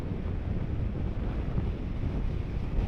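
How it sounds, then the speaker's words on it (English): Steady, heavy wind buffets the microphone while riding a Royal Enfield Himalayan 450 motorcycle, a continuous low roar with no breaks. "Sorry about the wind."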